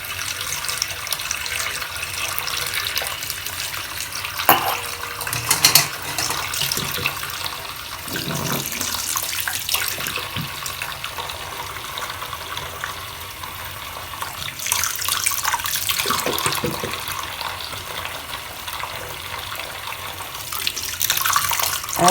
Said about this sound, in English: just keep cleaning them out with the hot water